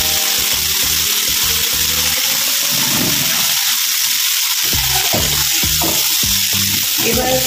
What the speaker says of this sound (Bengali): চলো আমার এখানে একটু মশলাটার মধ্যে একটু জল দিয়ে দিলাম